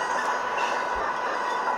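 A fanmade Amtrak Greenfield Zephyr train in a video game highballs through the mountains at over 90 mph, making a loud, steady rushing roar with no speech.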